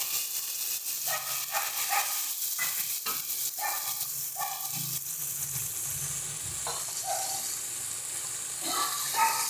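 Mustard paste sizzles and hisses in hot oil in a pan for a Bengali bhola fish curry, a steady frying crackle with intermittent stirring clinks and scrapes, fairly faint and close.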